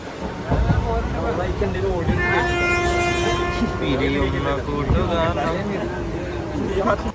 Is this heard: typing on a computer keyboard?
no